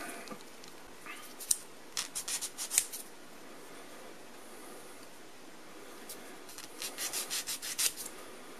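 A medium grit sanding stick rubs lightly over a rough spot on a plastic model tank part, giving two short bursts of quick, close scratchy strokes separated by a quiet pause.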